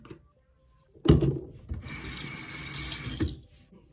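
Running water pours from a tap into a sink while a face is washed with a pump of concentrated cleanser, a steady splashing stream for about two seconds with rubbing hand noises before and after.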